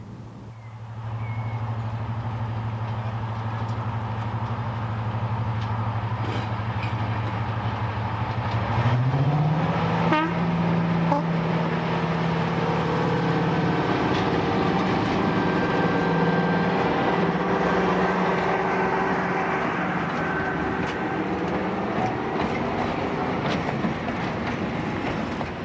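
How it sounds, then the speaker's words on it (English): Green Class 55 Deltic D9009 Alicidon double-heading with diesel D306 away from Orton Mere on the Nene Valley Railway, a loud sustained diesel engine drone that rises in pitch as they pull away, with rail clatter, heard alone. "Green Deltic D9009 Alicidon double heads with D306 away from Orton Mere on 18th May."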